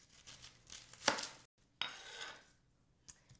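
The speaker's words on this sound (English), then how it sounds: "just to cut it in half like this and then slice it" A knife cuts through a medium-sized white onion on a board, giving a few crisp cuts and slicing scrapes, each with a quiet knock of the blade on the board. The sound is close and soft, with brief pauses between strokes.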